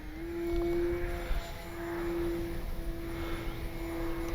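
A Durafly Tundra V3 RC bush plane rolls out for takeoff, its electric motor giving a thin, steady whine at moderate distance over faint outdoor background noise.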